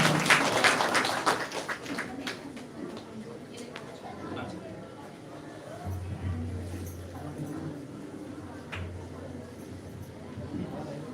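At a Christmas church service, the congregation claps to welcome a guest: a brisk burst of many hands that quickly fades beneath someone speaking, with scattered taps afterward.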